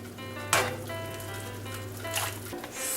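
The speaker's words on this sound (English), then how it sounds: "we take our liquid and we ladle it in. Only a couple at a time, then stir." Liquid ladled into a garlic chicken risotto in a pan, giving a soft, steady sizzle with a brief splash near the start and another later. The sound is quiet and close, and no one talks.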